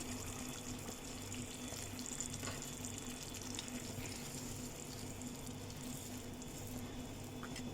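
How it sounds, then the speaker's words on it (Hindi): Warm milk, half a cup, is poured into a pot of mutton rezala, a steady soft liquid rush with faint sizzling underneath, continuous and close, with no talking. "अब इसमें हम डालेंगे हाफ कप ये वार्म मिल्क।"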